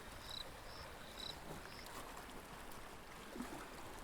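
Crickets chirp at night in an audio drama scene, a few faint high chirps near the start over a soft watery ambience, then dropping away into quiet.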